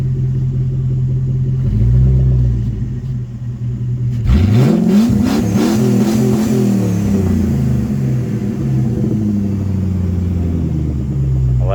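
A Ford Falcon XB GS V8 revving loud and close, a steady idle rumble surging into a big rising rev and settling back into a heavy, slightly rattly idle.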